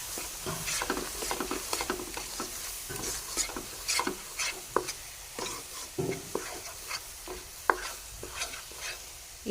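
A spoon stirs and scrapes egg and gram flour halwa in a hot pan, with irregular clinks and scrapes over a soft background sizzle, close and fairly quiet, no talking.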